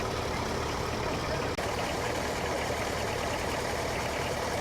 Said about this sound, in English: The tractors gathered in the field at the rear of Power's pub.